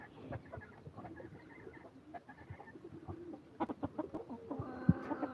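A fancy chicken clucks softly in a quiet setting, scattered short calls with a few louder bursts near the end.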